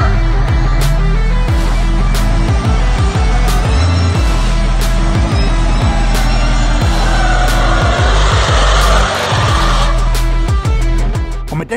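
A drag racing car's engine roars loud and close without pause, its deep rumble rising and falling through hard revs with crackling pops throughout.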